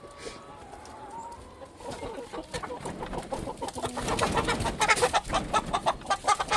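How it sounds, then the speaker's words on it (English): Chickens clucking and a rooster calling close by, with overlapping bird calls building in a busy, uneven rhythm. "That's a rooster."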